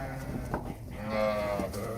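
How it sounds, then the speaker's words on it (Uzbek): A flock of pregnant Arashan-breed ewes being unloaded and herded: one nearby sheep gives a clear, wavering bleat, with another shorter bleat and low farmyard noise around it. "Qo'ylar zo'r akalar."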